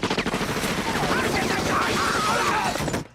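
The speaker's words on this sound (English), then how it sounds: "All the shooting." Gunfire from the House of Gucci movie trailer, rapid dense bursts of shots layered under music and voices, loud and continuous for about three seconds before cutting off abruptly.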